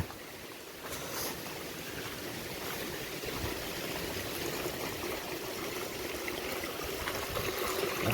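Water flows steadily into a rice paddy field in rural Konkan after rain, a continuous rushing trickle that holds at an even level throughout, heard outdoors.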